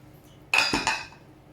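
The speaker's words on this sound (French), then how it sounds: "Donc là, je mets mes morceaux de poisson." Pieces of fish are set into a dish with a quick run of clinks and knocks against crockery, two or three close, sharp contacts that fade within about half a second.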